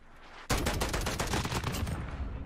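Gunfire in Call of Duty Modern Warfare, a sudden loud volley of rapid, closely spaced shots that starts abruptly and carries on densely for about two seconds.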